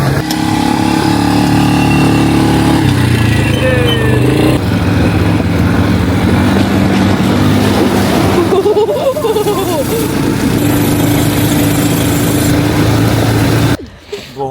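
A motorbike engine runs loud and close as the bike rides over rocky ground into a river, its tone rising and falling with throttle until it cuts out near the end.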